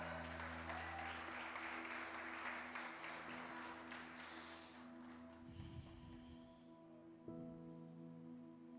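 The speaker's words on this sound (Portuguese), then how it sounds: "Você pode dar um aplauso ao nome do Senhor nesse lugar." A church congregation applauding, a dense burst of clapping that fills the first few seconds and then thins and fades, with a sustained organ or keyboard tone underneath.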